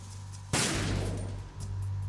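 A single loud gunshot in the stealth video game Metal Gear Solid 2: Sons of Liberty, an abrupt crack with a long rumbling tail over a steady low hum.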